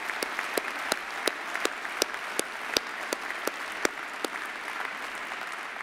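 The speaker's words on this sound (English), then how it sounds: "Please join me in a round of applause for the graduating class." Audience applause for a graduating class at an engineering postgraduate ceremony, a steady wash of clapping with a few sharper individual claps standing out, moderately loud and without talk.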